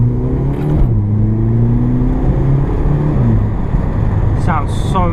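A Volkswagen Polo GTI with DSG gearbox revs up and down with a deep, throaty exhaust burble, engine pitch rising and falling a few times, loud and close.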